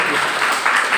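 Brief applause from a lecture audience, a short burst of close, steady clapping.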